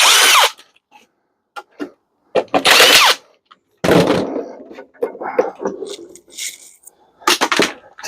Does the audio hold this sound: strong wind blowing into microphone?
no